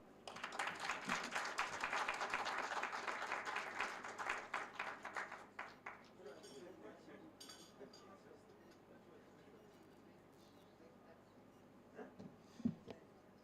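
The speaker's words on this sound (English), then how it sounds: "I think we need another round of applause." Audience applause after a speech at a tourism event, loud and dense clapping for the first several seconds, then thinning out into scattered claps and murmurs, with a faint voice near the end.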